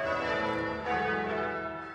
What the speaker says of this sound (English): With the bells ringing,